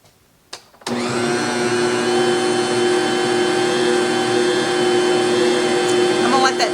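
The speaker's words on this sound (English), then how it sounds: "I'm going to let it start kneading with the dough hooks." Stand mixer fitted with dough hooks kneading yeast roll dough, starting up after a brief silence into a loud, steady motor whir that holds constant with rhythmic churning, close by.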